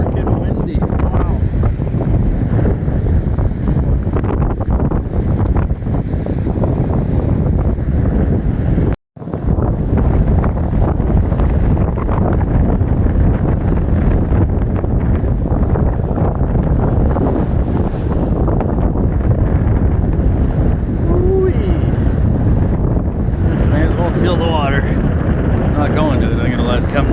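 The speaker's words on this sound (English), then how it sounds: "Freaking windy." Strong, cold wind at a beach buffets the microphone in a loud, constant roar, with a brief dropout partway through and faint surf-like noise underneath.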